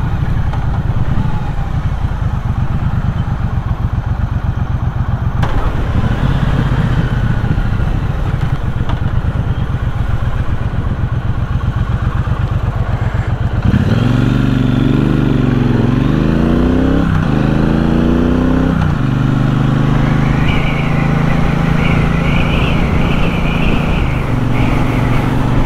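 A 2021 Triumph Bobber's engine drones steadily while riding, with wind buffeting throughout, rising and falling through gear changes and revs midway, loud and continuous without talk.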